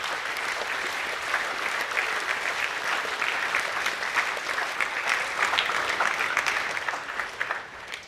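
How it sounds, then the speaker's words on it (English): Audience applause at a school academic awards assembly for award winners, a steady dense wash of clapping in a hall that holds level for several seconds and then thins toward the end. "Please give a round of applause for the Year 10 Academic A winners."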